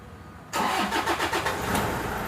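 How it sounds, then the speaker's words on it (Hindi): A Toyota Innova engine cranks and fires after a moment of quiet, a quick burst of starter chatter settling into a steady, close idle hum with no voices. "गाड़ी मैंने स्टार्ट कर दिया"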